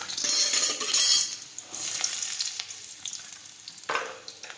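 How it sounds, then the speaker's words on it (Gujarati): Mustard seeds and cumin crackle and sizzle in hot oil for a porridge of barnyard millet, a steady near spitting hiss with scattered pops and a brief louder burst near the end. "હવે આપણું તેલ છે તે ગરમ થઈ ગયું છે હવે આપણે તેમાં રાઈ અને જીરું નાખી દઈશું"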